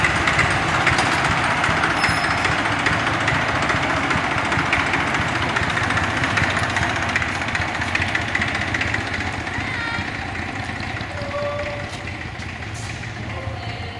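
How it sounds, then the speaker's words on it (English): A tractor engine runs steadily with a constant rumbling drone, fairly loud and close, easing slightly toward the end, as it tows an aircraft into a hangar at Shuttleworth. "The tractor that towed it in is coming out to make a bit of room."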